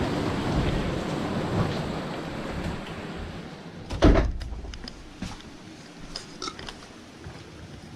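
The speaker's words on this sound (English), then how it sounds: "Close this door." The door of an RV camper van shuts with a single solid thud partway through, followed by a few small clicks and rattles over faint background noise.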